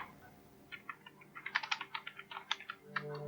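Quick bursts of key taps on a computer keyboard as a keyword is entered, a dozen or so light clicks in an uneven rhythm, close and quiet, with no voice over them.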